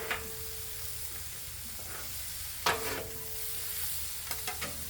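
Vegetables sizzling on a Blackstone griddle, a steady low frying hiss throughout with a few brief scraping clatters of a spatula, moderately close and with no talking.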